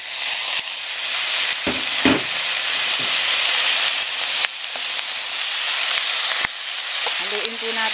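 Yakisoba noodles and sauce stir-fry in a hot pan with a loud, steady sizzle broken by scraping stirs and clanks of the utensil, and no talking.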